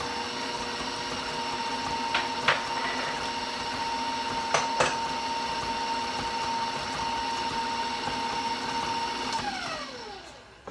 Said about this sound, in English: give it one final mix